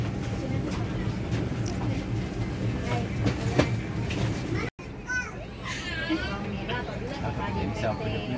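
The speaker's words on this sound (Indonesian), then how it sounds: "Beginilah suasana di dalam gerbong kereta api." Interior of a moving Airlangga passenger train carriage, second car: a steady low rumble of the running train fills the space, with children's voices and passenger chatter throughout and a brief cut partway through.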